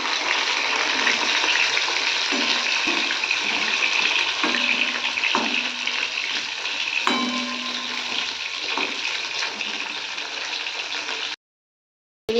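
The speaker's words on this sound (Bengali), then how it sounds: "দেখতে পাচ্ছেন মাছটা ভাজা হয়ে গেছে আর এবার তুলে নেব" Pieces of rui fish frying in hot oil in a home Bengali kitchen, a steady broadband sizzle with occasional soft clinks and stirs, close and continuous before cutting to silence near the end.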